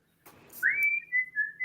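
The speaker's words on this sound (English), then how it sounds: "Who's whistling the theme?" A person whistles a theme tune, several clear sustained notes with short gaps, close and alone after a brief burst of background noise.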